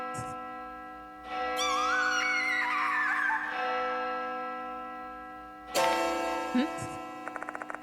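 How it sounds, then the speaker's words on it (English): A church bell in a clock tower rings in Spirit Hunter: Death Mark II, a sustained tonal strike with lingering resonance, struck again near the end, over eerie game music with swelling tones and a brief rapid ticking. "The bell is ringing?"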